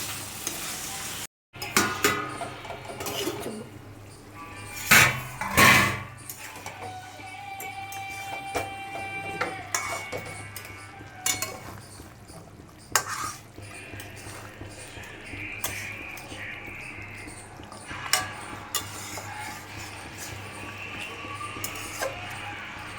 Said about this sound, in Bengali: মাংসটা মশলার সাথে মিশিয়ে ঢাকা দিয়ে দেবো